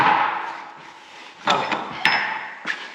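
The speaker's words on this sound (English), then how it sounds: "I'm gonna have to use a chisel, hold on." A hammer strikes a chisel in a metalworking shop where an oxy-acetylene cutting torch is set up, giving a few sharp, close taps over a steady hissing background.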